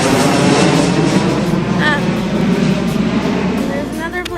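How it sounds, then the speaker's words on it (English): A fixed-wing airplane rolling down the runway on its takeoff run, a loud, continuous engine roar and rumble at a steady strength, with a voice briefly talking over it. "There's another plane of a different type rolling down the runway right now."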